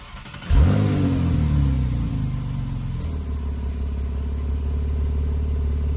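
A Porsche 911's engine cranks and fires near the start, then settles into a loud, steady idle that rumbles on alone without any talk.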